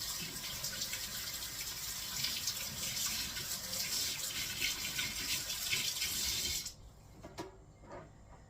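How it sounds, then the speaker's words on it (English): Hot tap water runs steadily with a hissing splash for several seconds, then shuts off, leaving a few faint drips and clinks. "Let me rinse it off a little bit here with hot water."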